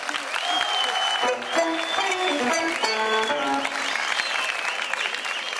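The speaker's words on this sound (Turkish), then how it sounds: "Bozkurt voleybol takımı Eren Koparıcı alkışlarınızla." An audience applauds a volleyball player of the champion Bozkurt municipal team with continuous clapping, while music with a melodic line plays loudly throughout.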